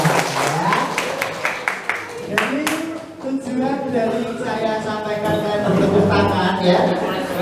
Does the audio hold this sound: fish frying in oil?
no